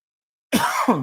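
One person gives a throaty cough followed by a second rough throat-clearing burst, close to the microphone after a moment of silence, with no speech.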